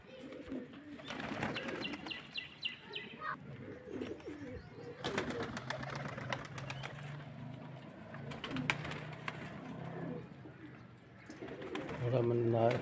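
Pigeons coo softly and repeatedly nearby, with scattered rustling and clattering noises and a voice speaking briefly in Hindi toward the end.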